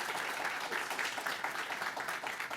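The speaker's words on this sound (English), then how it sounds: "I'd like us to give another round of applause, please, to all our participants," An audience at a poetry slam competition gives the participating poets a round of applause, steady dense clapping throughout, fairly loud and close, with no talking over it.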